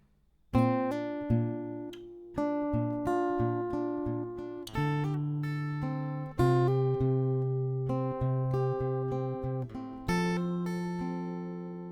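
Acoustic guitar slowly picking second-round chords, a sequence of plucked notes and chord changes ringing into each other, close and moderately quiet, with no talking.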